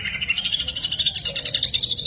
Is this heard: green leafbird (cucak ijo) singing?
yes